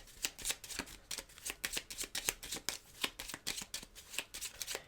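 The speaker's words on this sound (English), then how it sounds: "They're going to shuffle their deck of cards." A deck of cards shuffled during a board game, a quiet, close riffling with repeated rapid bursts of flicking card edges and no talk.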